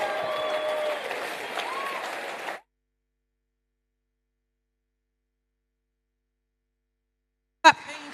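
Audience applause at an entrepreneurship talk fills the first couple of seconds, dense and steady, then cuts off abruptly into silence before a short, loud burst of sound near the end.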